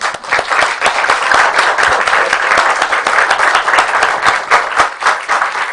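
Steady applause from a room of course attendees for a guest named Budé, loud sustained clapping with many distinct hand claps and no break.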